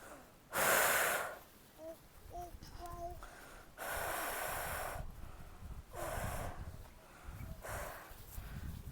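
A person breathes deeply and blows out air forcefully during a seated exercise routine, giving four or five long, rushing exhales with quieter breaths between them, close and prominent in a quiet room.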